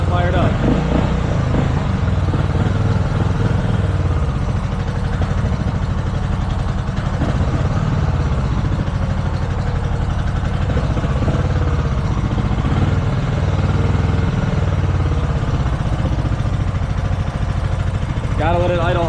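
A 2005 Kawasaki Vulcan 750 motorcycle idles steadily and loudly up close, a continuous low engine rumble with mechanical clatter running throughout, with voices heard over it.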